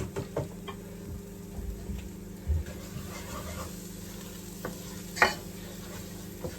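Onions and paprika frying in a pan after a splash of water is added, giving a low, steady sizzle with occasional soft stirring clicks and a sharper hiss near the end.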